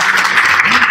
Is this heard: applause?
yes